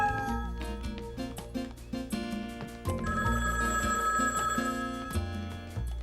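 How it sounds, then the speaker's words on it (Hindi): A household telephone rings in a Caillou cartoon scene, repeating over a busy musical background at a moderate level. "डैडी का फोन होगा लियो के बारे में बताने के लिए"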